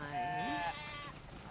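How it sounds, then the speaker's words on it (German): A few sheep in The Last of Us Part II bleat with wavering, nasal cries, one after another at moderate volume, with no talking. "Wow, das sind viele Schafe."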